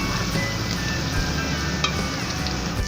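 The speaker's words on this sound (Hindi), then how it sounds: "ये देखिए प्याज सौते होके गोल्डन होना शुरू हो गई है" Onions and garlic frying in a pan, a steady, dense sizzle that stays close and even throughout, with faint clicks and no voices.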